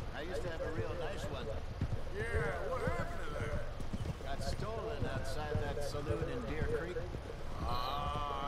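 Horse hooves clip-clopping in the video game Red Dead Redemption 2, a steady rhythmic hoofbeat close up, running under people talking throughout.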